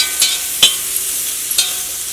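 Tomatoes stirred and frying in a pan, with a steady soft sizzle broken by a few sharp scraping clinks of a spoon against the pan, close by.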